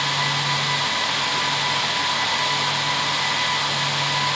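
Cooling fans of a Cisco UCS 6296UP fabric interconnect starting up, a loud, steady, close whooshing roar with a faint low hum underneath throughout.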